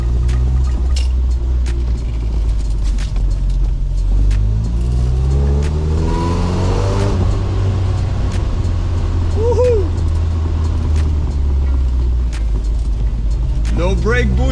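Classic UK convertible car driving, its engine a steady loud rumble with rising and falling revs as it accelerates, heard close from inside the open cabin throughout.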